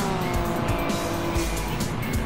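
Race cars in a racing video game, including a Mustang, with loud continuous engine roar and squealing tires as the cars slide out of a hairpin turn, close and sustained.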